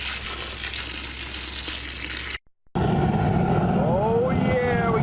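Water gushes steadily from a hose or tap to fill a large crawfish boiling pot outdoors, a loud continuous rush with a brief break midway and a voice speaking over it.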